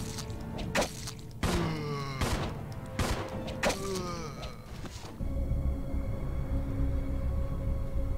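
Gunfire in the Resident Evil: During the Storm demo, several sharp shots spaced about a second apart, loud and close, then a steadier ambient rumble takes over near the end.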